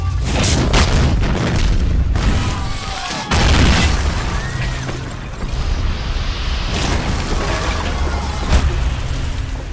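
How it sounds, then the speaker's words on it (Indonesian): A loud, rumbling explosion with crashing debris and sustained roaring noise, dense and powerful throughout. "bom itu meledak sampai meruntuhkan seluruh desa"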